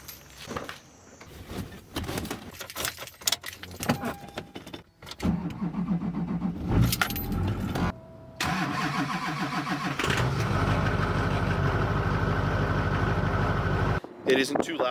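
A Colorado ZR2 diesel pickup with a turbo-back exhaust cranks and fires up, then settles into a loud, steady idle with a raspy drone, heard close over faint background noise.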